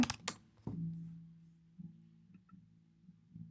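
Keys on a computer keyboard clatter in a few quick taps, then soft, sparse clicks follow over a low steady hum, close and quiet.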